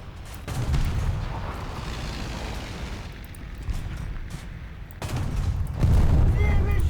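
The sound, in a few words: bomb explosion from a Ju-87 in War Thunder video game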